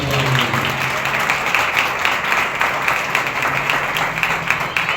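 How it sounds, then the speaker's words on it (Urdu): A church congregation at a Sunday service applauds, producing a dense, continuous wash of clapping that stays loud and even throughout. "سوائے زوردار تالیاں بجائیں خدا کے"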